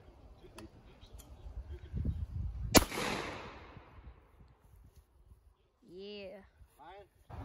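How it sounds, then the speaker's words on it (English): A 12 gauge shotgun fires a single loud, sharp blast outdoors during duck season, its boom trailing off into a decaying echo, with quiet talk before it and a voice briefly after. "That's a 12 gauge."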